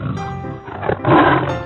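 A tiger roars loudly and up close, a rough, rumbling growl that swells toward the end of the short burst, heard alone without talk.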